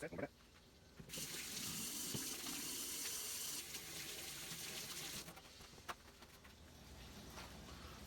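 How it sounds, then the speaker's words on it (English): Tap water gushes into a sink during hand washing, starting after a brief knock, running steadily for several seconds, then stopping, followed by faint rattles and drips; a faint voice may be present. "I'm gonna wash my hands like I said, and we'll be right back."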